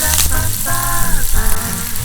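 Onions sautéing in oil with a little salt, a loud close sizzle and crackle over a steady hiss, with some tonal whine from the pan briefly.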